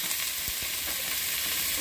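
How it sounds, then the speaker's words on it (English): A pot roast pan is deglazed with wine and beef broth, giving a close, steady sizzle and hiss, with a few soft stirring scrapes in the brief burst. "All that on the bottom there, I hit it with wine and some beef broth."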